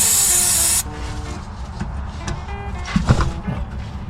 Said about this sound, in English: Right, spray these up.